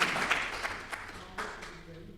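A conference audience at a sport-and-disability event claps for a para-badminton athlete. The brief applause starts at full strength and fades over about two seconds.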